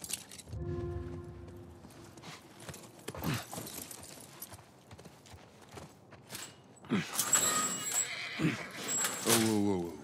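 Horse hooves clip-clop at a walking pace in the video game The Last of Us Part 1, mixed with game sounds and voices talking throughout.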